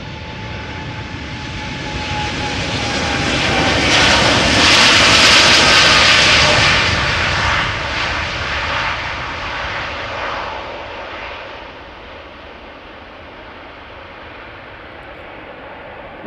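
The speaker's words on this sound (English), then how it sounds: "Next up, Boeing 7879 Dreamliner. Outbound to Austin, Texas." Four-year-old Boeing 787-9 Dreamliner taking off from Amsterdam Schiphol for Austin, Texas, its jet roar swelling to a loud close peak, then trailing away into a low fading rumble.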